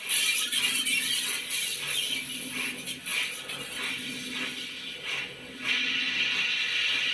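Steady broadband blower hiss from a model steam locomotive sound system, fairly close, with slight fluctuations and a brief swell near the end; no voices.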